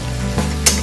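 Water poured into a hot pan while cooking Hong Kong-style cured-meat rice wrapped in lotus leaf, bursting into a sharp, close sizzle that flares briefly and keeps hissing over a steady low kitchen hum.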